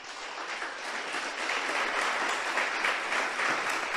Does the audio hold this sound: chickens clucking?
no